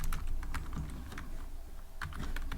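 Quick bursts of keys tapped on a computer keyboard, a handful of close, light clicks in an uneven rhythm, heard alone without speech.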